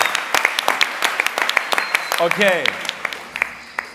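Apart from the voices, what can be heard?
applause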